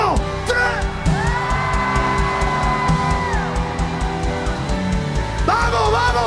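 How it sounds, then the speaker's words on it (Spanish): A church congregation at a revival service erupts in loud, sustained shouts and whoops of joy, with many voices overlapping close by and rising again at the end. "un grito de júbilo que se oiga en el infierno"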